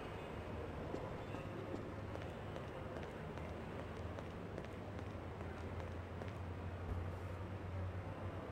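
Steady rumbling of a train in the video game Half-Life 2, a continuous low clatter and roar at moderate level with no break.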